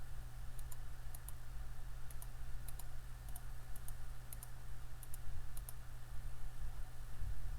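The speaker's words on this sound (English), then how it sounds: "So it's a matter of just going through and clicking Next." A computer mouse clicks repeatedly in quick pairs and singles at an uneven pace, crisp and close, over a steady low background hum with no speech.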